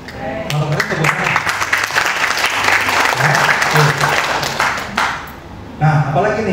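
Audience applause fills a presentation hall about transdermal products, dense steady clapping from a crowd running throughout, with a presenter's amplified voice and harmonic tones cutting in over it at intervals.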